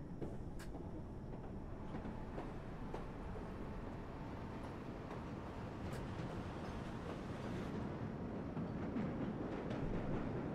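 A subway train in the World of Subways 4 game arrives, rumbling and clattering nearby, a steady low roar with occasional metallic clicks and faint squeals, no voices.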